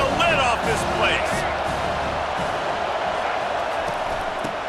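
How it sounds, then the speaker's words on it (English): A dense stadium crowd roars in EA Sports College Football 25 on a third down, a loud, sustained wall of noise with some brief voice-like tones near the start. "3rd down and this crowd is tearing the lid off this place."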